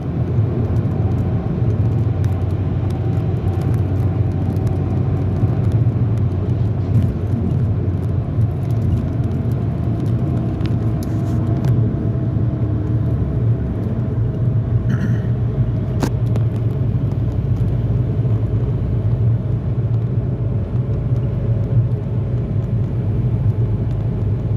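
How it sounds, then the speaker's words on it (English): A semi truck with wobbling two-piece wheels gives off a steady, heavy low rumble and vibration, loud and continuous throughout with no break, with faint rattles above the drone. "It's damn near shaking the whole truck."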